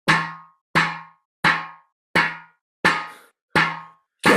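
Seven loud, clanky metallic snare hits ring out alone at a steady, unhurried pace, each with a sharp attack and a short ringing tail.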